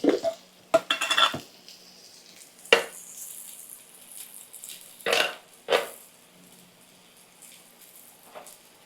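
Pita bread frying in a nonstick pan, with a faint sizzle broken by sharp bursts of utensil scraping and clatter against the pan, close and without talk.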